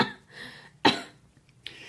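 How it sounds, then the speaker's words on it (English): A single harsh cough bursts out sharply, followed by a second, softer cough trailing after a breathy pause, close and otherwise quiet. "How long have you had that cough?"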